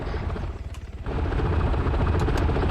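Helicopter rotor in the Arma 3 military game, a steady loud chopping thrum with rhythmic blade pulses that swells and holds close for a few seconds.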